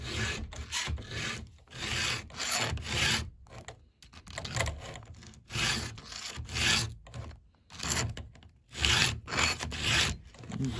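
A file rasps across the teeth of the saw chain on a STIHL GTA 26 pruning saw during sharpening, a steady run of close, gritty strokes separated by brief pauses.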